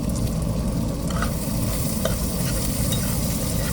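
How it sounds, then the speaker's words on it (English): A garlic dish sizzles loudly in a pan while being stirred, a steady dense crackle with soft scraping and no voices. "Oh, I gotta stir it up first."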